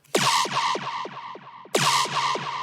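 A deep bass hit followed by a train of repeating echoes that fade, then a second hit restarts the decaying echo pattern.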